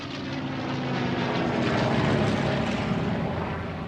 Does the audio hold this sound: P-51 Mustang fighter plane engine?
yes